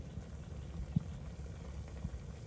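Small pond fish simmer in a pot on a village stove, a soft steady bubbling with one or two faint knocks.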